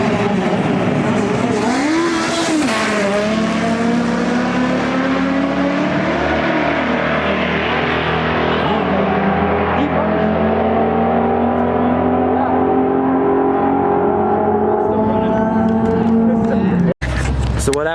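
A Nissan GTR and a Honda Civic drag race on a private track, one engine revving hard and climbing through the gears in a loud, sustained wail that cuts off abruptly at the end.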